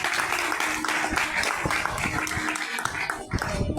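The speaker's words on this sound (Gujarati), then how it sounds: "એક વખત સંતોને તાળીઓથી વધાવો." Crowd at a temple's annual anniversary festival clapping loudly to welcome visiting saints, a thick continuous wash of applause with individual close claps popping through.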